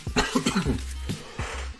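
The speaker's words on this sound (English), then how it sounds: "I am coughing." Several harsh coughs burst out close up, a quick cluster at first, then two more separated coughs with low throaty rasp between.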